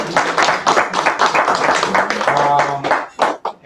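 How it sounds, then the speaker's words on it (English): Audience at a parents' event applauding the family, a dense patter of many hands clapping steadily for about three seconds, then tapering into a few scattered claps near the end. "can we clap it up for the family"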